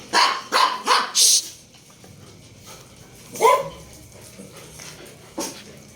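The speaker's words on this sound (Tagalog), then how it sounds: "Ingay ng mga aso ang aking dinatnan." Several dogs at home barking in a quick burst of four sharp barks, then a lone loud bark and a later yelp as they squabble, with a person hushing them between the noise.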